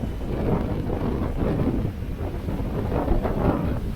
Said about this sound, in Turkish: Bu arada fırtına çıktı.